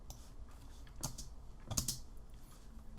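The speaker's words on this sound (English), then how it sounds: "Hitting F on the keyboard to zoom in." A few keystrokes on a computer keyboard during photo editing, two clear clicks standing out against a quiet room background.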